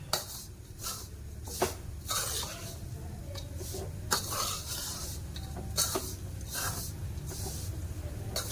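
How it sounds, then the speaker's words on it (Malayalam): Roasted peanuts and fried chana dal are stirred together in a pan, giving soft repeated scrapes and a few light clinks over a quiet, steady hiss. "എല്ലാം കൂടി ഇട്ടൊന്ന് ഇളക്കാം."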